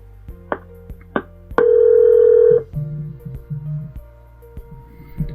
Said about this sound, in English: so it's calling to another phone number.